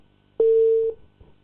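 Telephone tone after a call is cut off, a single steady electronic beep lasting about half a second, loud and clean, followed by a faint click.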